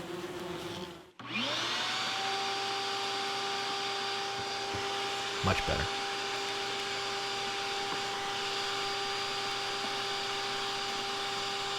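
Vacuum cleaner sucking yellow jackets out of a nest in a house attic: the motor starts up with a rising whine and then drones loudly and steadily, with insects rattling and buzzing through the hose and a brief spoken remark.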